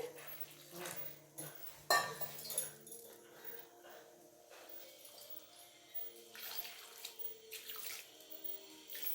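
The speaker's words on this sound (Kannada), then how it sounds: "ನೀರು ಹಾಕ್ಕೊಂಡ್ತಾ ಇದ್ದೀನಿ" Water trickles and splashes in short pours into a bowl of flour for puri dough, close and fairly quiet, with light clinks and rustling between the pours.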